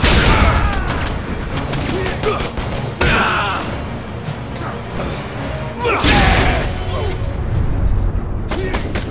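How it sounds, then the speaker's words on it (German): Rapid bursts of loud gunfire in the video game Dead Rising 4, with sharp cracks and heavy booms, repeating in clusters over a busy, dense background with voices mixed in. "Klingt, als ob jemand den ersten Schuss abgegeben hat"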